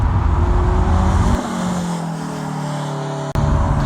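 A Lotus Esprit with a Renault gearbox drives past, its engine a steady loud roar that drops into a lower, smoother drone partway through, with a sharp click near the end.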